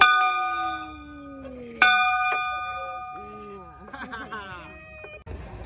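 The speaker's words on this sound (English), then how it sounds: "Ring the bell." Bell rung at a pumpkin patch, two bright metallic strikes a couple of seconds apart, each ringing out and decaying, then cheering voices.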